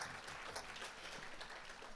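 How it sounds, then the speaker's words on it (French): A church congregation applauds during a sermon, the clapping a quiet, dense wash of many hands blending into continuous noise, with no voices standing out. "Applaudis, applaudis pour ton travail"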